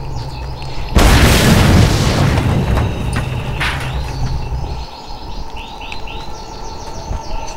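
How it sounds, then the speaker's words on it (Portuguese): A fuel canister explodes in the Mad Max video game with a loud, close boom that roars on for several seconds before settling into crackling fire, while chirping bird sounds from the game carry on behind it. "Tem que explodir, né? É necessário explosão."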